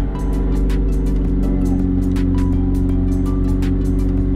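A McLaren 765LT supercar engine runs steadily at a loud, close, droning idle with layered low hum and faint intermittent clicks on top, heard from inside the car.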